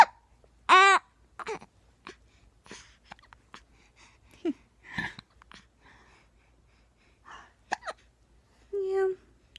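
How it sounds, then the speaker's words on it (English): A baby hiccuping, several sharp short hiccups spaced a few seconds apart with soft breaths and small fussy vocal sounds between, close and quiet. "Yes, these hiccups are no fun."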